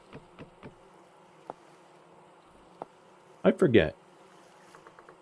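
In the survival video game Vintage Story, bees buzz in short bursts, a few faint taps followed by a louder, closer drone lasting under a second, with a brief spoken word nearby.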